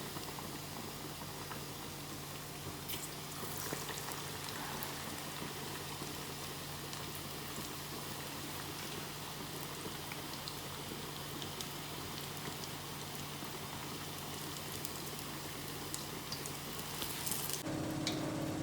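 A second batch of pakoras for kadhi pakora fries in hot oil with a dense, even sizzle that holds steady throughout at close range, softly crackling, with a brief clatter near the end and no voices.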